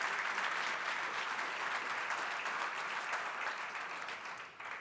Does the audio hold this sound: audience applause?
yes